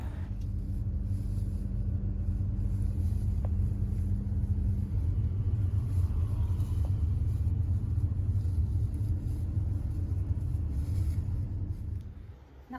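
Inside a moving bus in Japan: a constant low engine and road rumble fills the cabin, steady and close, with faint rattles and no talking.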